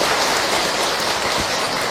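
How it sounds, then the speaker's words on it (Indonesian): An audience applauds during an Islamic religious lecture, a dense, loud, continuous wash of clapping that fills the whole moment without any voices. "Tepuk tangan untuk kita semua ya."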